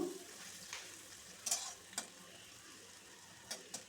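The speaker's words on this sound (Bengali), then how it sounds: "উচ্ছেটা ভালো করে ভেজে নিতে হবে নেড়ে চেড়ে লাল করে" Chopped bitter gourd fries in hot oil in a wok, giving a soft, low sizzle with a few spaced spatula scrapes and clinks, quiet and close.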